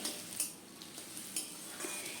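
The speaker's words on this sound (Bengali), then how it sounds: "পেঁয়াজটাকেও নেড়ে চেড়ে নিয়ে ভাজতে থাকব।" Chopped onion frying lightly in oil gives a faint, soft sizzle, broken up by a few light scrapes and taps as the onion is stirred around the pan.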